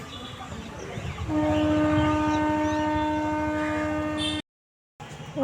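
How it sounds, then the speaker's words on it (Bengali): A train rumbles steadily while a long, sustained horn blares, then the sound cuts off briefly before the rumble returns. "আমাদের ট্রেনটা প্রায় ঢুকেই গেছে"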